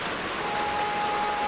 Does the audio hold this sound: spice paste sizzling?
no